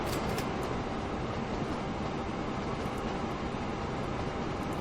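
A goods train in the video game Train Fever rumbles along steadily with a dense, continuous roar and rattle of wagons, loud and close, without any speech.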